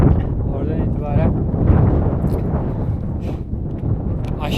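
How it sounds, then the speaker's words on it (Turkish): Wind roars across the microphone in uneven low gusts at a 3900 m mountain pass near Ala Kul Lake, Kyrgyzstan, while a person talks briefly over it, with occasional faint crackles. "Burası rüzgarlı."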